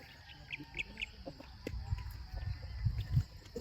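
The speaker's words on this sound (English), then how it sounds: "You can hear the chirping of the birds." Small birds chirp in short high bursts near a campsite by the sea in Catigan, Davao, Philippines, faint against low wind and ground rumble, with scattered footstep-like thumps toward the end.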